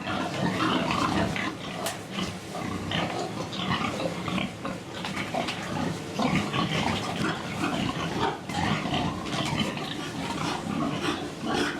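Pigs packed tightly together on Hogwood pig farm grunting and oinking continuously, a dense chorus of many animals close by with squeals rising over the steady din.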